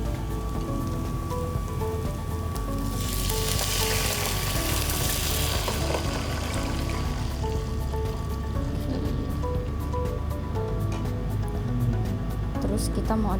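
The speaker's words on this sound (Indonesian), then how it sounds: "ini waktunya kita buat masukin air." Water poured into a cooked, fragrant spice paste whose oil has separated, for Indonesian opor; a broad splashing wash under steady talk and music, strongest in the middle seconds.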